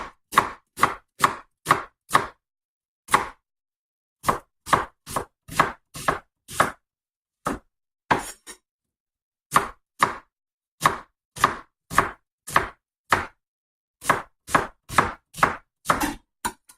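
A knife chops an onion steadily on a cutting board, quick bursts of crisp thuds with short pauses between runs, close and clear.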